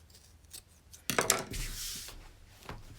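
Scissors snipping through fabric while trimming the corners of a quilted fabric purse, a few close, crisp cuts with a brief louder burst of snipping and rustling in the middle.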